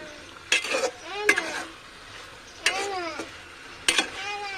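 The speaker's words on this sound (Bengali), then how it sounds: "এরপর আলু আর গাজর ভালোভাবে কষিয়ে নেব।" Potatoes and carrots sautéed in a pan, with a utensil scraping and clinking against the metal in four separate bursts over a soft background sizzle.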